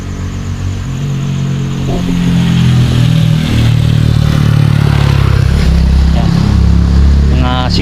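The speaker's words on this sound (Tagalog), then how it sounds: "may motorsiklo." A motorcycle engine drones and rises as it passes along a dark road at night in Negros, loud and close, with another vehicle's hum mixed in and a voice talking over part of it.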